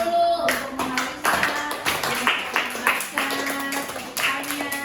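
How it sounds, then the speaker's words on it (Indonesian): A class of fifth-grade students at an elementary school in Ambon claps for a classmate, uneven bursts of close hand claps and taps in a small room, with a faint voice and tone underneath. "Tepuk tangan dulu untuk Marisa."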